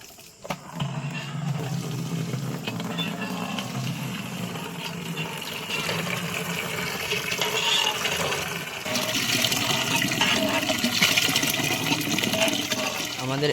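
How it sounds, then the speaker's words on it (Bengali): Water pouring steadily into a drum while washing up for a night riverside picnic, a continuous rushing fill that grows fuller and louder toward the end. "একটা ড্রাম এখন ভরা হচ্ছে।"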